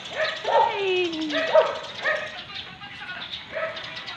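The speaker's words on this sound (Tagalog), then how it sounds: "Laki ng aso, nakatali." A large dog tied up near a home barks and yips in several short bursts, with a whining pitch slide between them, heard at moderate distance outdoors.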